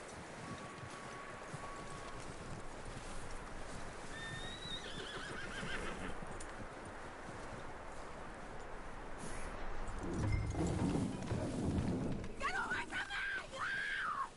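A horse in the video game Red Dead Redemption 2 whinnies and snorts nearby amid steady hoof clip-clops and outdoor ambience, with a brief scuffle of movement toward the end.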